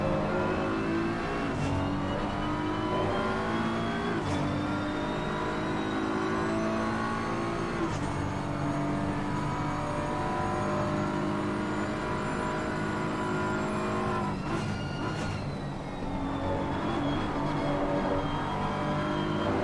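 Race car engines in the Assetto Corsa Competizione sim drone and whine steadily as several cars run through a fast, tight corner, their pitch rising and falling with shifts and passes, with no talking over them.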